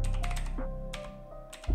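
Computer keyboard keys clatter in a quick run of close, light taps, with a short pause midway and a soft thump at the end over a steady low hum.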